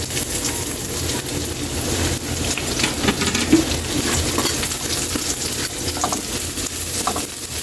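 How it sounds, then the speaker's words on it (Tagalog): Garlic and onion sauté in oil in a pan while cooking ginataang bangus (milkfish in coconut milk): a steady, dense sizzle with a close, even hiss that holds the whole time, with no talking. "pwede na natin ilagay ang ating bawang at ang ating sibuyas para hindi magtampo."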